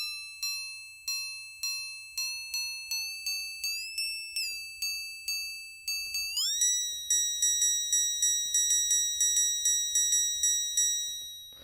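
Synthesized FM hi-hat tone in Bitwig with uneven ratios, heard as a run of bright metallic pings with rapid decays whose pitch bends upward, growing more dissonant and denser in the second half; clean and close, no talking.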